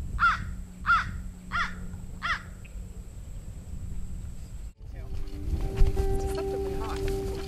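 American crows at Shark Valley in the Everglades give four loud, evenly spaced caws close by, then fall quiet under a steady outdoor hum and rustling background noise.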